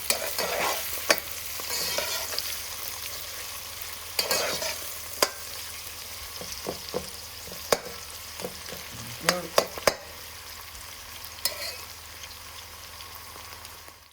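Onions, garlic and ginger frying over medium gas heat for British Indian restaurant butter chicken, a soft steady sizzle broken by sharp spatula clicks and stirring scrapes at close range, with no talk.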